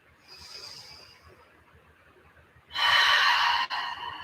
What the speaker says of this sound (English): Another round of breath.